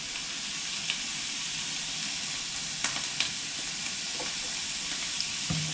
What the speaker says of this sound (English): just grilling off the other veggies in batches, put a bit of colour on them